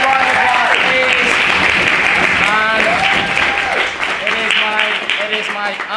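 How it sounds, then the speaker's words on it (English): A debate-competition audience gives the debater Dermot a big round of applause, a continuous loud clapping roar with voices and cheers mixed in throughout. "please give Dermot a massive round of applause"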